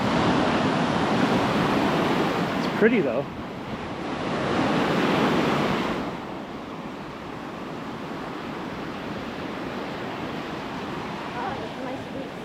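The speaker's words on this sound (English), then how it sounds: "The waves are getting stronger." Ocean waves break and wash onto a Punta Cana beach in broad surges under wind noise, with a person speaking briefly over the surf.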